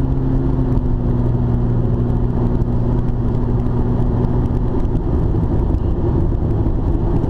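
A car engine hums steadily nearby as the vehicle drives close behind, giving a continuous low drone with road noise and no pauses.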